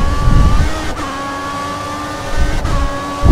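A Formula 1 car engine in the F1 2014 video game whines at high pitch in a thin, buzzy tone, with brief dips during gear changes. No one speaks over it.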